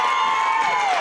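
Mauston fans cheer and shout at a WIAA Division 2 wrestling super regional in Richland Center right after a fall, a dense, steady roar of crowd noise filling the whole moment.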